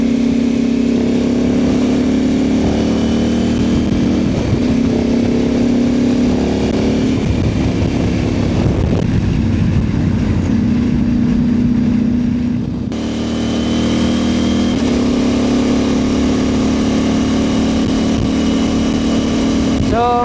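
A CFMoto 800MT adventure motorcycle engine drones loudly while riding, with steady tones that rise and drop as gears shift, including an upshift from third, close to the microphone throughout.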